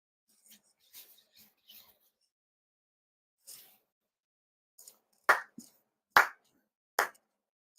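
Ceremonial hand claps at a monthly memorial service, a few faint scattered sounds early on, then three sharp, distinct claps evenly spaced in a quiet room.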